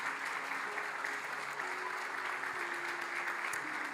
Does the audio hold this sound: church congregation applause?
yes